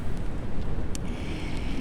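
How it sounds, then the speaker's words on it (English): Steady wind buffeting outdoors, a low continuous rumble pressing on the microphone throughout. "It's getting a bit windy up here"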